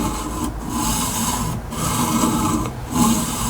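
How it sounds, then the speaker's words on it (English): A knife edge is ground on an Atoma diamond whetstone in a Tsprof K03 Pro Hunter guided sharpener, giving steady rasping strokes back and forth with brief pauses between passes, close and fairly loud. "we're trying to remove all the Sharpie and grind a new edge on here"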